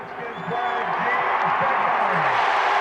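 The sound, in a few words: Super Bowl crowd cheering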